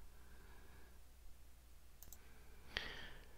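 A single sharp computer mouse click, close and quiet, over faint room hum, with a softer click just before it.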